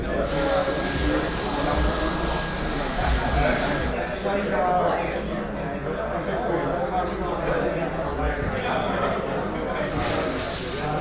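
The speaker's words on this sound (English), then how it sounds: "I'm actually gonna do a little round 2 reset and blow dry" A handheld hair dryer blows steadily on hair during a restyle after a first haircut in six years, a loud continuous hiss that cuts out partway and returns near the end, with a person talking throughout.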